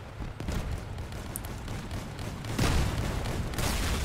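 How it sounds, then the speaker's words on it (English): Vehicle-mounted cannons fire during combat in the game Crossout, heavy booming blasts layered over a dense, continuous roar of battle noise, with stronger bursts near the middle and end, loud and without speech. "Got cannons."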